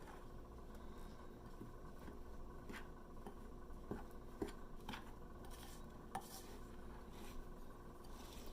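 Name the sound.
mixing gluten-free bagel dough with a spoon in a bowl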